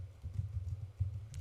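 Soft, quick keystrokes on a computer keyboard as a command is entered in an Ubuntu terminal, a faint, irregular patter of taps lasting about a second and a half.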